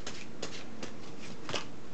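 Pokemon trading cards are riffled and shuffled several times in quick bursts, close and crisp, with no talking.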